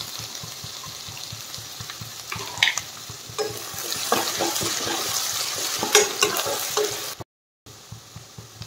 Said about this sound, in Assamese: এতিয়া কাটি থোৱা পিঁয়াজখিনি অলপ ফ্ৰাই হৈ গৈছে। এতিয়া মই পিচি ৰখা আদা নহৰু পেষ্টটো দি দিছোঁ।